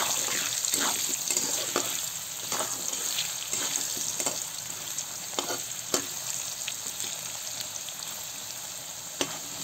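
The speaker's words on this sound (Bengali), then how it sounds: "আলু কটা লাল লাল করে ভেজে নেবো" Potatoes dusted with a little salt and turmeric fry in oil until reddish, giving a continuous bright sizzle broken by occasional scraping stirs, close and fairly loud.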